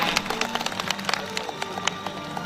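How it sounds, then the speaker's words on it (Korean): Audience applause welcoming a guest being introduced at an evening community event on Geumdang Island, a dense wash of many hands clapping at steady moderate loudness with scattered sharper claps. "큰 박수 환영해 주시기 바랍니다."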